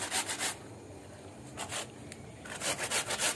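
Hand grating of ingredients for a Konkani dhondas cake gives close, rasping scrapes in rhythmic bursts of several strokes, separated by short pauses.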